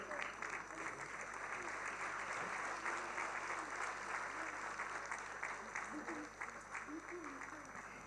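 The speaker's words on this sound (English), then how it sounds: "Please, a round of applause for somebody who has been a part of this organization and part of our endeavors here" An audience at a health summit inauguration applauds the Chief Minister of Haryana with dense, sustained clapping, steady and distant, filling the hall for several seconds.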